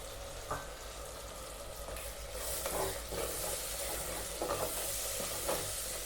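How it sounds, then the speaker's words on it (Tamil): Tomatoes sautéing in a pan, a quiet continuous sizzle with intermittent stirring scrapes that grows slightly louder partway through, no speech. "இப்போ தக்காளி நல்லா வதங்கட்டும்."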